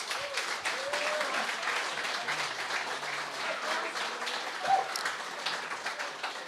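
Fairly faint applause from a crowd at a local football club draft event, a steady soft patter of many hands with a few louder claps and scattered voices throughout.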